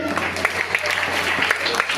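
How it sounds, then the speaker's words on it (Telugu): Students clap together at a first-aid training session run by the Indian Red Cross with Rotary Inner Wheel. The sharp, crowded claps go on steadily for two seconds with a voice talking over them. "వెరీ గుడ్, క్లాప్స్ కొట్టండి."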